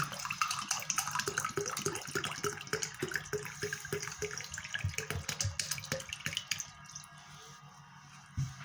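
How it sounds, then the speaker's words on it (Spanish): Water poured into a container for a surface-tension experiment, a steady close splashing and gurgling stream that thins out and quiets toward the end. "Echamos agua en un recipiente"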